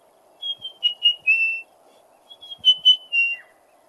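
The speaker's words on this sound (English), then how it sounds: "especially when you hear the orange-breasted bushrike going" Orange-breasted bushshrike calling in African bush, two clear whistled phrases of several notes each, moderately near, over a faint steady insect hum.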